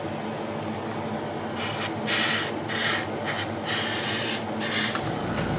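An airbrush sprays a light mist coat of paint in a series of short hissing bursts, each cut off by brief pauses. The bursts are close and fairly soft, with no talk.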